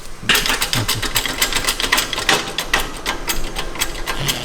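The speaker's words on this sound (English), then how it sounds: "we're gonna use this gnarly hydraulic bottle jack to compress these" A 20-ton hydraulic bottle jack being pumped to compress parts on a BMW E30: a steady, close stream of rapid mechanical clicks and creaks, loud and continuous, with no talking.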